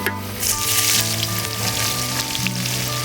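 Cinnamon, cloves, cardamom and onion sizzle steadily in hot oil for a Malabar chicken dum biryani, a loud, continuous frying crackle close up with no talking.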